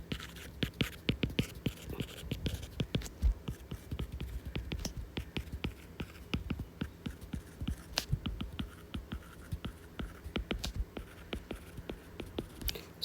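A pen writes out numbers by hand on paper, a quiet, close run of quick scratchy strokes and taps continuing steadily with brief pauses between characters.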